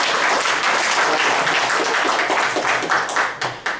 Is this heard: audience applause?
yes